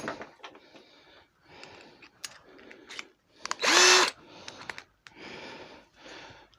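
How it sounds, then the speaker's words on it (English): A power drill boring into tigerwood, with one loud sustained whir near the middle and lighter intermittent bursts and clicks around it, close by. "now I'll grab that smaller drill bit again."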